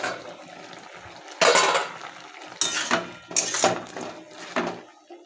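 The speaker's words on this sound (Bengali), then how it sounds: "ঢাকনাটা আমি সরিয়ে নিই" A lid lifted off a cooking pot, several loud close metallic clanks and scrapes in separate bursts, with quieter kitchen handling in between.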